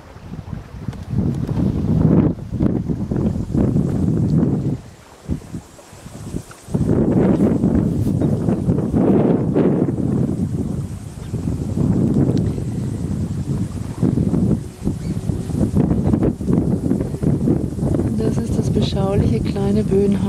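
Strong force 5 wind while sailing under land cover, a loud continuous roar and buffeting on the microphone that drops away briefly near the middle, with people talking throughout.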